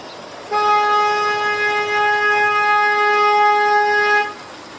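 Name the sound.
narrowboat horn blast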